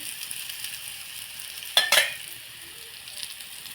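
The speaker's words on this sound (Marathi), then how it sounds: "सर्व वड्यांना पलटी मारून झालेली आहे परत त्याच्यावरून असं थोडंसं तेल सोडायचं आहे" Flipped spinach vadis fry in oil with a steady close sizzle, broken by one short burst of louder spitting partway through.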